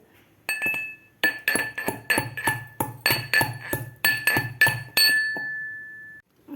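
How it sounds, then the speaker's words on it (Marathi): Fenugreek seeds are pounded coarsely in a mortar and pestle for mango pickle: about a dozen sharp, ringing metallic strikes land in a steady rhythm, close and loud, then stop. "आपल्याला हे मेथ्या थोड्याशा जाडसर खलबत्त्यामध्ये कुटून घ्यायच्या आहेत"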